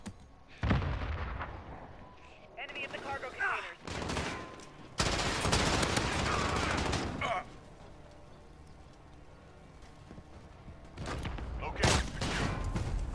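Bursts of rapid automatic gunfire crackle in a first-person video game shooter firefight, loud sustained volleys separated by quieter gaps, with a few closer sharp shots near the end.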